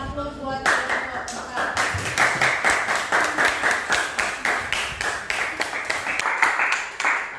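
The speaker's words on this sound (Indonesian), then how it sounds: "Kita berikan aplaus buat kelompok" Classroom applause for group 4, a small group clapping in a steady, brisk rhythm for several seconds, fairly close and moderately loud.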